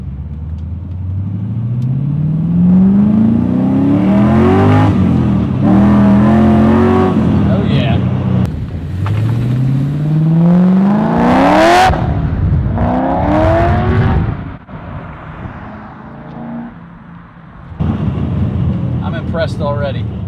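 LS V8-swapped BMW E30 with a 6-liter engine revving hard on a dyno, rising through the gears in loud repeated pulls, then settling to a rumbling idle before a final blip.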